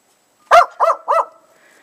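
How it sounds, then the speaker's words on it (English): A dog barks outdoors in deep snow the day after the February 2011 blizzard, giving three close, loud barks in quick succession with a faint whine trailing after. "There's Lucy barking"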